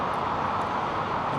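An Airbus A330-300 departs London Heathrow with a loud, steady jet engine roar. The broad rumble is sustained and unchanging throughout, with no voices over it.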